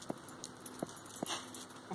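A puppy called Chevy gives a few short, soft whimpers spaced apart, close by and faint against a quiet indoor background.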